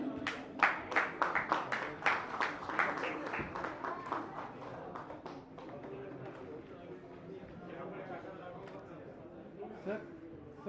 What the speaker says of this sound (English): Big round of applause for the entire team.